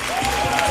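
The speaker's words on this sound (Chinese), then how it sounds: "你给我们的杨主委掌声鼓励一下" A short burst of crowd applause for a chairman at the final of a national Hakka stir-fry cooking competition, dense and fairly loud throughout.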